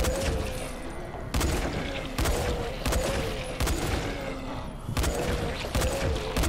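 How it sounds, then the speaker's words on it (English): Repeated gunfire in the zombie game Dying Light on a nightmare campaign, a string of loud sharp shots spaced about a second apart over steady game noise. "Alright, gotta shoot you. No choice."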